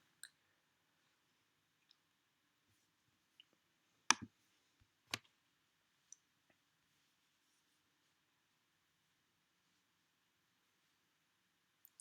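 A computer mouse clicked on a quiet desk: a few sharp, isolated clicks spaced seconds apart, with two distinct louder clicks near the middle and a faint low hiss throughout.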